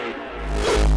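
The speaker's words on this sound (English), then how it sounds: "I made it unique like this. I reversed it to use it like as a riser." A reversed kick drum used as a riser in a 120 BPM jumpstyle track, a short backwards swell that builds from quiet to a loud low-heavy peak within about a second, alone.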